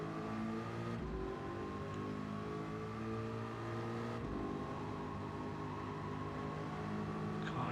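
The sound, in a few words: V8-swapped race car engine from video game Gran Turismo 7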